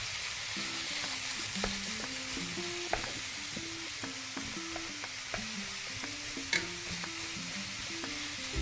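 Okra and a poppy seed spice paste fry and sizzle steadily in a pan, a soft continuous crackle running throughout with faint background music and no talking.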